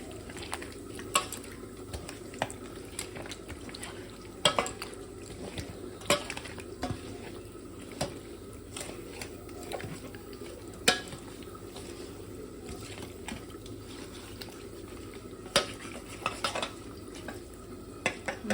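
Fish pieces for a Bengali spiced fish curry being mixed by hand with turmeric and mustard oil in a bowl, giving soft, wet squishing and stirring sounds with scattered light clicks against the dish, steady and close, with no talk.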